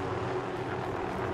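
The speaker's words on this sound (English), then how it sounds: "Watch the helicopter." Steady droning helicopter rotor in a video game match, a continuous low engine hum holding at an even level throughout with no voices over it.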